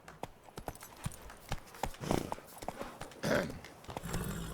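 Hoofbeats of a horse galloping in The Witcher 3, an uneven run of sharp clip-clop strikes over soft game ambience, with a louder burst of hooves midway and toward the end.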